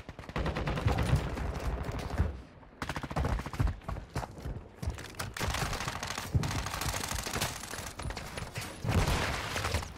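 Rapid bursts of ISO Hemlock rifle fire in Warzone 2, loud and close, coming in dense volleys with a short gap before the firing resumes and continues to the end.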